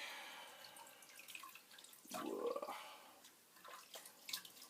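Tap water runs and splashes while a part of a Commodore 1541 disk drive is washed, with irregular trickles, drips and louder gushing bursts close by and no talking.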